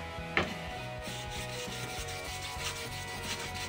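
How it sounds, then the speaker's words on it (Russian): Parts of a Para-Military 2 replica folding knife are buffed with grey polishing compound, making a continuous rubbing, grinding whir with a repeating rhythmic pulse and one sharp tick near the start. "и плашки полирнем, и клины, и шайбы"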